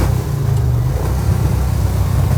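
Rumbling engine of the Fast and Furious 4 hero truck from the gas tanker heist scene, fitted with large side pipes, a loud, steady, close low-pitched drone with slight pulsing throughout.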